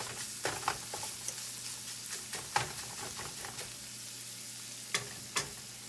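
Hamburger meat browning in a pan, a steady close sizzle broken by scattered scrapes and clicks as the meat is stirred and pushed around, with no talk.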